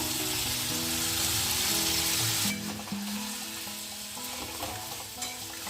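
Potatoes frying with banana flower in hot oil as they are stirred, a steady dense sizzle with scraping stirs, close and continuous, with a faint tonal background sound throughout.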